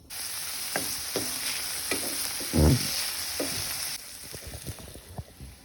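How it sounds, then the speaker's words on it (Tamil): Chopped vegetables for veg kadai sizzle in two tablespoons of hot oil in a pan, with a continuous frying hiss and several stirring scrapes and clatters, one louder thump midway. "இந்த பேனில் ரெண்டு டேபிள் ஸ்பூன் எண்ணெய் விட்டுருக்கேன் இப்போ நான் நறுக்கி வச்ச காய்கறியெல்லாம் இதில் போட போகிறேன்"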